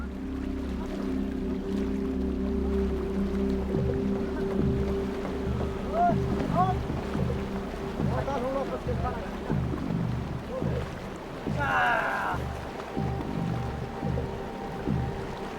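Icy river water rushes along a Himalayan trail deep in a gorge in a steady, close roar, while a voice speaks over it.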